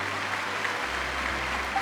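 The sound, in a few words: audience applause in video game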